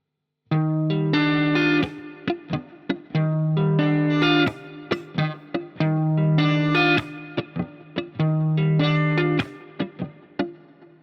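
Fingerpicked guitar chords alternating with percussive slaps on the strings, a repeating rhythmic pattern played close with a slightly effected tone.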